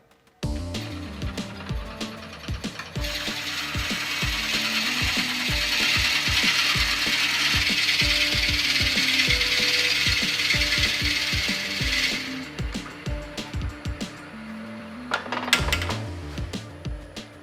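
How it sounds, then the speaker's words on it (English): A lathe drilling into a black acacia stump for a hollow vessel, giving a steady loud rhythmic ratcheting clatter with a sustained grinding hiss through the middle as the bit bores in, running alone without talk. "I'm going to be drilling right to that line right there."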